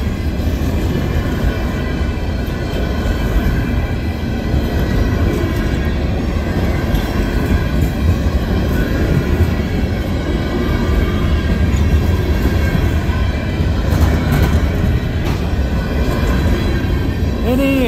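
The tail end of a CN freight train, S772, rolls past at West Ladysmith: a steady, close rumble of railcars and wheels on track, with a faint wheel squeal late on.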